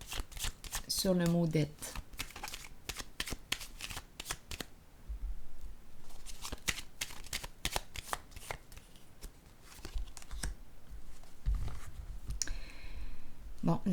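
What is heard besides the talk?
shuffling and drawing oracle cards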